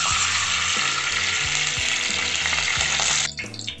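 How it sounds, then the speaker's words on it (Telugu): Dry fruits frying in ghee in a pan, a loud, steady crackling sizzle with light scraping of stirring throughout, then easing off sharply near the end, with no talking. "ఇందులో మనం ముందుగా తీసుకున్న డ్రై ఫ్రూట్స్ ఉన్నాయి కదా ఫ్రెండ్స్, వాటిని అలా కొద్దిగా అట్లా వేపుకుందాం"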